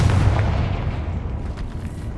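A Confringo explosive spell goes off in Hogwarts Legacy as a loud, deep burst that settles into a sustained rumbling roar, close and heard alone.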